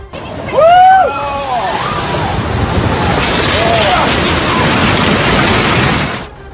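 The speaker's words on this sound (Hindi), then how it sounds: "हाई टाइड की वजह से उठी समंदर की ऊंची लहरें सारी सीमाएं लांघ कर रेस्टोरेंट में घुसी" Loud, steady roar of high-tide seawater surging into a seaside restaurant in Cape Town, with high shouts and screams rising over it near the start and again briefly later.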